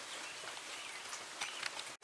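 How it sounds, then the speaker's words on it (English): Steady rain falling outdoors makes a soft, even hiss that stays faint and continuous throughout, with a few slightly brighter patters near the end and no voices. "It's raining out today. It's so nice out here. It's just a nice steady rain."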